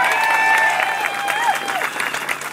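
A large outdoor crowd at a March in March rally in Katoomba, Blue Mountains, claps in a dense, sustained wash of applause, close and loud, with cheering voices and a few whistles riding over it.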